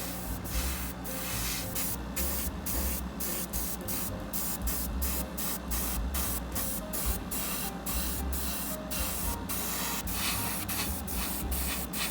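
Spray paint hisses onto a Mini 4WD Proto Saber car body that has been sanded with 1000-grit paper, in close, steady bursts broken by short regular pauses, with no talking.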